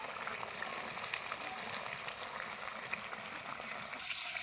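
Food frying in a pan over a wood fire, a Bengali dish with green chillies: a soft, continuous sizzle and bubbling hiss runs throughout, steady and moderately quiet, dropping slightly near the end.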